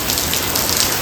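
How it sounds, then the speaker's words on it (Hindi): Heavy monsoon rain pours steadily in Uttarakhand, a dense, continuous hiss of drops drumming on surfaces, close and even throughout with no voices. "सुबह से ऐसी बारिश हो रही है"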